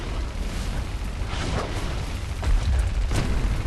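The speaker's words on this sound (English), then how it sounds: "The missile is hit." A missile strikes a warship in the naval video game Warship Mobile 2, heavy booming impact rumble over a dense, steady roar of battle noise, loud and close with a swelling burst midway.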